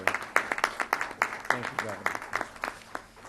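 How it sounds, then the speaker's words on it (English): Round of applause for the Lieutenant Governor of South Carolina at an event, heard as scattered, moderately loud clapping with a voice speaking over it. "I think we give a round of applause to the Lieutenant Governor and these great team members here in South Carolina"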